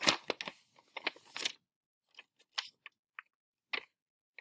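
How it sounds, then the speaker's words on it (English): Scissors cutting folded paper for a classroom foldable: a run of quick crisp snips and crunches up close, then sparser single snips after a pause. "So I cut up to that crease."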